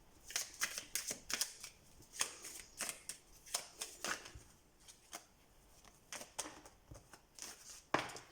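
Tarot cards are shuffled by hand in repeated soft riffling bursts, close and quiet, with a papery flutter that keeps starting and pausing and no talking over it.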